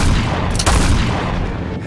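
Sustained cannon fire from a battle re-enactment of the 1527 Battle of Khanwa: loud, dense, continuous booming with overlapping blasts and rumble filling the whole stretch, with no voices.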